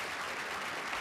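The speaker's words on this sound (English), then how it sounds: "I'm gonna give Anora 2 claps." Brief, dense clapping heard up close, a short continuous patter of hand claps with no speech over it.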